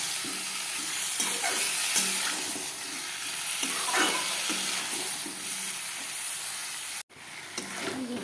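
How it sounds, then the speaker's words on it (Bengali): Meat with spices, papaya and potato sautéing in a pan, a steady close sizzle with repeated rhythmic stirring scrapes, briefly cut out near the end. "মাংসটা অনেকটা কষানো হয়ে গেছে, অনেকক্ষণ ধরে কষালাম"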